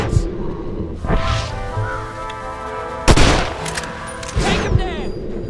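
Gunfire in the video game Red Dead Redemption cracks out in a few loud, sharp shots over a rumbling game soundscape, with brief game voices and ambience between the blasts.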